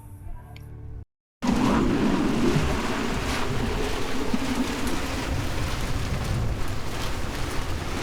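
Hurricane Henri's wind roars loudly and continuously around a sailboat moored in Bristol Cove, with waves and microphone buffeting throughout after a brief dropout near the start.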